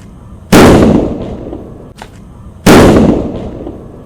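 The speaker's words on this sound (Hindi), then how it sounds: "ग्रीन VIP बम, सूतली बम, छोटे साइज़ का, इसको जला के देखते हैं ये कैसा जलता है।" Two loud, sharp sutli bomb firecracker blasts about two seconds apart, each bursting suddenly and then ringing out into a fading rumble, with no voices.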